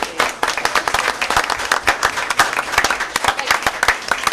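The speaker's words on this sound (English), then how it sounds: "Give them another round of applause" Audience at a Fanwood council meeting applauds loudly, with dense overlapping claps and sharper individual hand strikes standing out, sustained steadily for several seconds.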